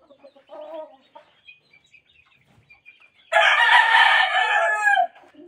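A gamefowl rooster crows loudly and close by in one long, strong call late in the clip, after a few faint clucks and quiet farmyard sounds.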